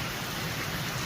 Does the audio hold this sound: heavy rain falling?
yes